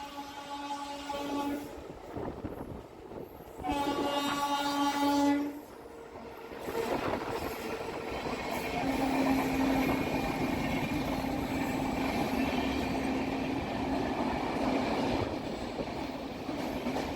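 A Howrah to Digha local passenger train rumbles steadily along the rails, its horn sounding two long blasts near the start, then continuous running noise with faint clacking.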